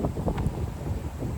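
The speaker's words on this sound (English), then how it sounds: "this wind is going crazy as well" Strong wind buffets an outdoor microphone with steady low rumbling and gusty thumps throughout, loud and continuous with no clear voice over it.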